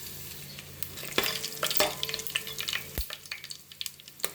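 Food frying in hot oil, just heated for a Sunday special home dish, with a steady crackling sizzle broken by sharp stirring clatters from a utensil against the pan, close and fairly loud, with no voices.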